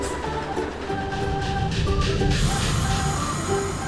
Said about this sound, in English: Red and blue train.